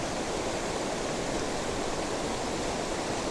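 Waterfalls on the Baptism River at Tettegouche, a dense, steady roar of rushing water that fills the whole clip, loud and close, with no voices.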